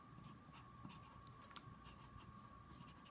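Pencil scratching across a sheet of scrap paper while writing, a soft continuous scribble with short bursty strokes, quiet and close with no talking.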